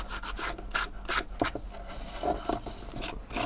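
Edges of leather on a spiked cestus fighting glove are sanded by hand in short repeated rasping strokes, close and fairly quiet with an irregular rhythm.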